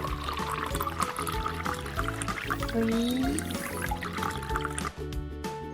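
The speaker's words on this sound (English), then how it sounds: "We're gonna get freezing water." Cold water pours in a steady stream from a home soda machine, filling a container continuously at close range, with faint background noise.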